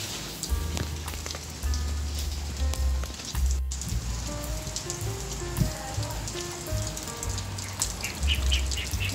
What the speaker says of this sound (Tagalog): Ulan po ngayon.